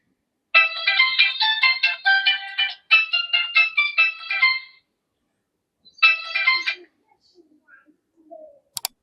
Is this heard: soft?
no